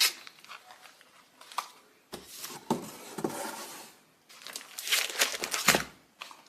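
Cardboard packaging from a 49 and Market mystery box rustles, crinkles and tears as items are pulled out, in several close bursts of crumpling with brief quieter pauses between them.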